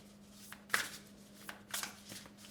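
Tarot cards being shuffled and squared up on a surface, giving soft rustling flicks and a few sharper taps as the deck is aligned, close and quiet over a faint steady hum.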